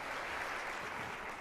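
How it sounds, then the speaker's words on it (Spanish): Brief, fairly quiet burst of audience applause at a Dominican community event on Capitol Hill, an even wash of clapping with no voices over it. "Un aplauso para el hermano."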